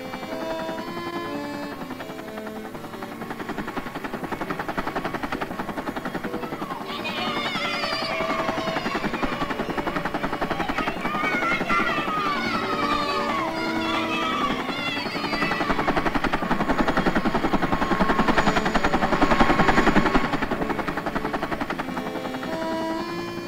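A helicopter flies over Moscow in the 1960s, its steady rotor and engine drone running continuously beneath music, growing slightly louder toward the end.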